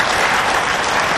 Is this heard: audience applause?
yes